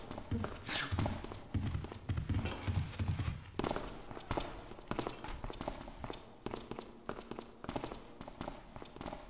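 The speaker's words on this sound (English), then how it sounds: "Just hear a billion footsteps now." Many footsteps clatter across a yard in the stealth game Thief, a busy, irregular patter of steps mixed with ambient game noise, with someone talking over the first few seconds.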